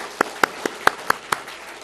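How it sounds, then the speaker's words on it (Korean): A church congregation at a Sunday worship service claps in a slow, even rhythm, six distinct, fairly sharp claps spaced roughly a quarter second apart, with no talk. "하나님께 영광의 박수를 드리겠습니다"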